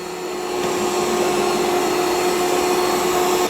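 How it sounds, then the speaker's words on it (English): An ECOVACS DEEBOT X2 Omni robot vacuum on carpet ramps up its suction into a loud, steady whirring drone with a high motor whine, close and continuous, with no talking. "And it increases the suction when it's on carpet."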